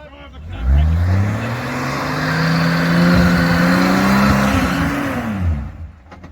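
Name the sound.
Nissan G60 Patrol 4WD engine revving climbing off-road in first gear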